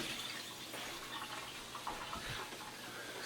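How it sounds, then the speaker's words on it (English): Tap water runs steadily into a sink as hands are washed in a home kitchen, a soft continuous splashing rush with small changes in flow and no talk. "but I'll wash my hands right now."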